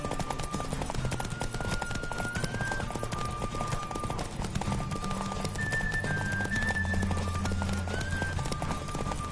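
Rhythmic hoofbeats of a galloping horse in The Witcher on PS4 drum steadily under a dense bed of game music and effects, loud and continuous throughout.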